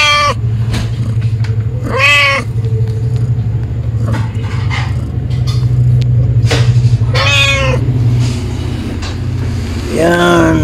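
Several household cats, a new mother among them, meow clearly and repeatedly in separate drawn-out calls that rise and fall, set over a steady low background hum.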